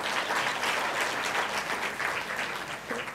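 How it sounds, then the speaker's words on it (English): Dense, sustained applause from a large audience at a public dialogue session in Singapore, steady and loud for the whole stretch with no pause. "I'm really glad you're clapping"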